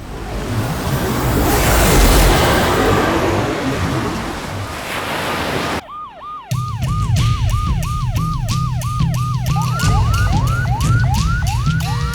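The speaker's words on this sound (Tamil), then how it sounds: "ஆம்புலன்ஸ் எந்த ரூட் வழியாக போகுது?" Ambulance siren, preceded by a rushing surf-like noise, then a loud repeating wail that cycles rapidly up and down in steady rhythm for several seconds.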